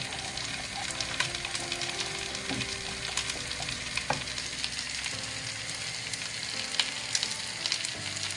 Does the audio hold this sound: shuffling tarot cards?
no